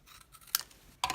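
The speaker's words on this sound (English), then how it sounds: "You could probably cut this one in half." Scissors cutting card stock for tabs and labels: two quick crisp snips about half a second apart, close and clear over a quiet room.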